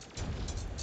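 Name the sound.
base exploding in Terraria, video game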